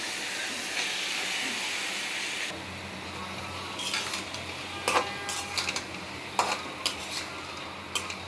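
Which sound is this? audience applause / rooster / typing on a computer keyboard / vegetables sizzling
vegetables sizzling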